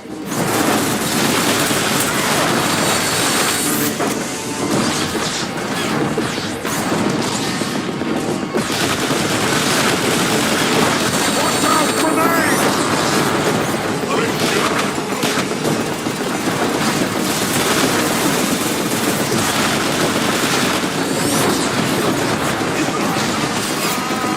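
In the video game Transformers War for Cybertron, tank cannon fire and battle noise form a loud, dense barrage of booms and rapid gunfire, with voices occasionally mixed in.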